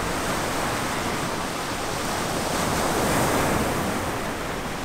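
Ocean surf near Puena Point, Hawaii, roars as a dense, continuous wash of breaking waves, loud and steady with wind noise mixed in and no voices.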